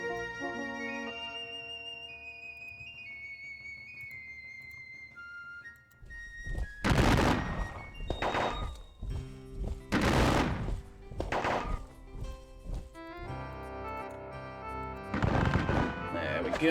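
Muskets fire in the video game WDS Battle of Gettysburg, a turn-based Civil War battle, as several loud separate blasts and crackling volleys ring out over soft game music, with long gaps between them.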